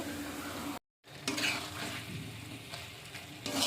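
Lafa greens (a leafy vegetable) being stir-fried in a pan at home, steady moisture-laden frying sizzle with scraping stir strokes, close and continuous, briefly cut to silence near the start.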